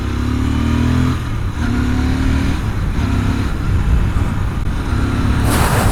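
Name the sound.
motorcycle engine misfiring as fuel runs out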